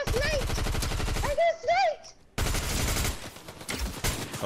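Rapid automatic gunfire in the video game Fortnite, a fast burst of close shots, then a pause and a second stretch of dense firing, with excited voices over the action.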